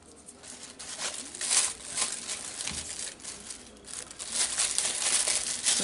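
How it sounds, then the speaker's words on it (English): A small plastic bag crinkles close by as glue is packed back into it during flintknapping tool making, a continuous rustling and crackling that rises and falls over several seconds with no one speaking. "Put my glue back into a little plastic bag."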